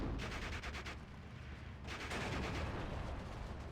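Hetzer tank cannon and battlefield gunfire in the WWII strategy game Steel Division II, a dense continuous rumble of shots and explosions with rapid bursts, loud and unbroken.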